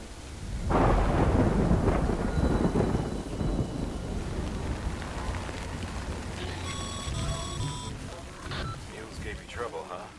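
Thunderstorm with steady rain in the video game Death Stranding: a loud rolling thunder crack early, then a continuous rain and wind wash with low rumbles, with some faint tonal game sounds over it.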